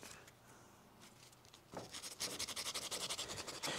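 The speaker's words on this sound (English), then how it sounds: "So we probably ought to scuff up this aluminum pretty good." Hand scuffing of an aluminum surface with an abrasive, a faint rub that turns into quick rhythmic back-and-forth strokes, close and isolated.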